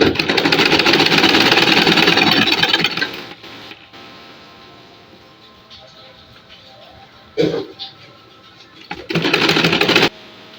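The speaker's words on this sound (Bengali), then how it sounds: "পায়ের দুই সাইড নিচে সেলাই করব এখন।" A sewing machine stitches the lower sides of a salwar's legs, a loud rapid mechanical whirr for about three seconds, then quiet with a brief burst, and another fast run near the end.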